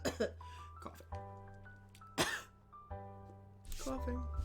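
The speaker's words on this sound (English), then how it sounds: "Coughing." A person coughs and clears their throat indoors in several short, rough bursts at close range, with a low steady hum and a tonal background sound underneath.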